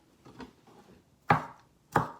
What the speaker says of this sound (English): This is Sera chopping.